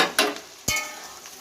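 Green chilli frying in a pan at home, two sharp bursts of sizzle as pieces hit the hot oil, each fading into a quieter crackle, close and clear with no talking.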